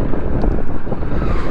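Strong wind buffeting during a motorcycle ride in stormy, rainy weather; loud, continuous low roaring gusts across the microphone, with no voices.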